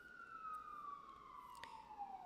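A distant siren wails outside, one long steady tone gliding slowly downward, fairly faint over a low rumbling background.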